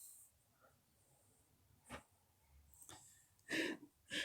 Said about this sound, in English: My dog has my coat on my left arm and is trying to drag my coat off of me.